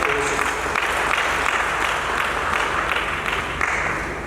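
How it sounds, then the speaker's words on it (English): Sustained audience applause at a science summit, a dense wash of many hands clapping at an even, loud level throughout, tapering slightly toward the end with faint crowd murmur beneath. "Please clap also."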